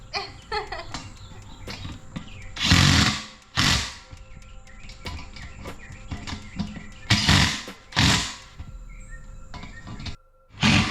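An impact wrench on a Kawasaki KRX 1000 wheel fires in several short loud bursts, separated by quieter pauses with faint background sounds.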